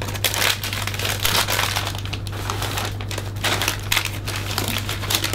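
Brown craft paper being crumpled and scrunched by hand for a Phalaenopsis orchid gift wrap, a continuous close crinkling and crackling with steady rustling bursts, no voices.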